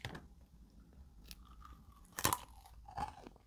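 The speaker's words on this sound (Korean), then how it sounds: "한번 먹어보도록 하죠" Someone bites into and chews a white chocolate jelly candy shaped like a quail egg, close up, with soft squishy chewing and a sharper crunchy bite partway through, in otherwise quiet surroundings.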